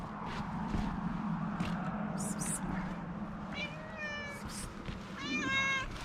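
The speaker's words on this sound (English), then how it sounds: "Here comes the old shop kitty." A shop cat named Penny meows several times in short rising calls, close and clear over a steady low hum, with a person speaking nearby.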